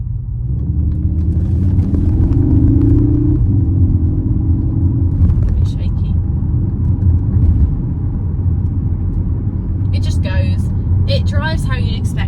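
A Cupra Formentor VZ3 driving in its sportiest Cupra mode gives a steady, loud low engine and road rumble throughout, with faint clicks and brief higher noises near the end.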